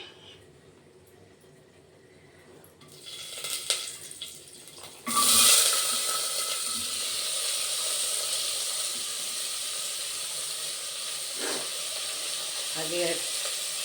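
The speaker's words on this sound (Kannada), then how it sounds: "ಈರುಳ್ಳಿ ಟೊಮೊಟೊ ಹಾಕ್ತಾಯಿದ್ದೀನಿ" Onion and tomato drop into a hot pan, setting off a sudden loud sizzle that settles into a steady, close hiss of frying, with brief clatter and a little background noise.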